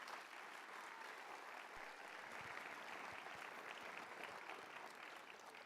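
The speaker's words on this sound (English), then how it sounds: "So let's give a round of applause to our partners who celebrate our Teachers of the Year." A crowd at a 2023 Teacher of the Year awards ceremony applauds partners, a steady, fairly faint wash of clapping that holds for several seconds without anyone speaking over it.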